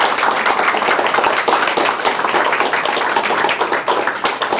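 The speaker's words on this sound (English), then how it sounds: "We can clap" A lecture audience applauds together, a dense, steady wash of many hands clapping at close range that holds evenly for several seconds with no voices over it.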